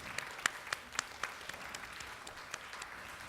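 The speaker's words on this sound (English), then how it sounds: "Everyone, please give her another big round of applause" Sparse, quiet clapping after a dance performance at a Bharatanatyam debut recital, with a few distinct claps standing out over faint background noise.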